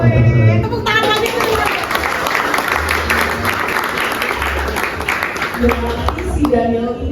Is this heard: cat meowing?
no